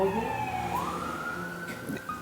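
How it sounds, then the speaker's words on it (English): Emergency vehicle sirens pass at a distance in a city neighborhood, a faint wailing tone sweeping upward over low traffic rumble. "sirens that you hear"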